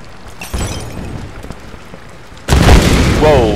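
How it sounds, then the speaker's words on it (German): An explosion in the Tomb Raider video game, a sudden loud broadband boom that bursts in partway through and sustains its roar to the end, following quieter game ambience. "Wow, ja, es explodiert."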